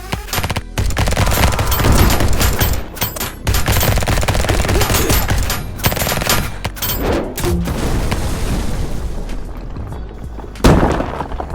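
Rapid bursts of toy-weapon gunfire from a Gridiron Studios Snake Armor collectible during target practice, dense loud volleys with brief gaps and a final burst, no talking.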